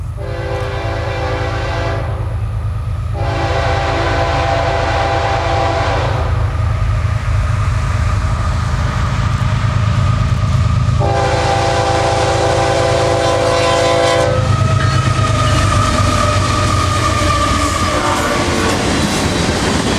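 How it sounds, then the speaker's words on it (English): A train rumbles past with steady clickety-clack, its horn sounding several long, loud blasts that start and stop over the continuous roar. "this train was wasting no time"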